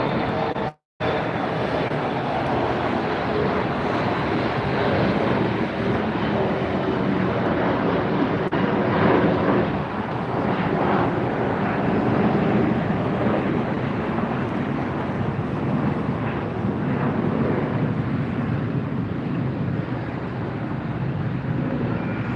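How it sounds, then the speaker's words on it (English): An Austrian Airlines Boeing 777-200ER taxis at LAX for departure, with a continuous broad jet-engine roar heard from a distance, mixed with gusty wind buffeting the microphone. "This is Austrian Airlines flight 82, going to be headed to Vienna, taxiing down now for a departure."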